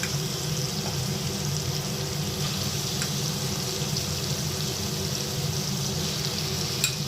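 Small Bombay duck fish frying in mustard oil over a high gas flame, giving a steady, loud, continuous hiss that holds unbroken throughout with no voices.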